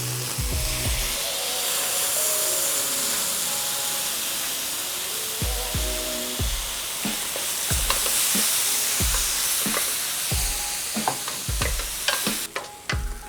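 Caramelized apples sizzle and fry in a pan, with repeated stirring scrapes and clatters over a steady hiss throughout.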